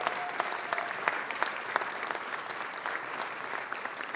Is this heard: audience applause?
yes